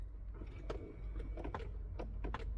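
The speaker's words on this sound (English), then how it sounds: "we can hear some positions of motors going up and down" Inside a 2006 Audi Q7 (4LB) during an AC learning routine, the climate flap motors run with faint whirs and small clicks, irregular short bursts over a low cabin hum, with no talking.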